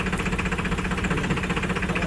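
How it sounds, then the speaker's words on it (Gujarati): A tractor engine runs close by in a wheat field at sowing time, with a loud, steady, rhythmic chugging drone that continues without pause and no voices. "ટ્રેક્ટર આગળ લઈ લીધું"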